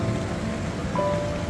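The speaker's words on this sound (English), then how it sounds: "Having fun in the rain." Steady rain pours down at a beach on Oahu, Hawaii, a dense continuous hiss of drops hitting surfaces close by, with no voices.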